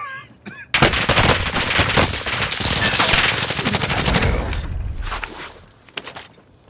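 Rapid automatic gunfire from a cheating player in Call of Duty Warzone on Rebirth Island, loud sustained bursts for several seconds after a short quiet lead-in, tapering off near the end.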